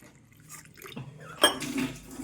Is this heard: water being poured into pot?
yes